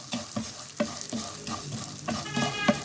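Edible gum pieces fry and puff in hot fat for panjiri, giving a close, steady sizzle with rhythmic clinks and scrapes of a spoon stirring against the pan every half second or so.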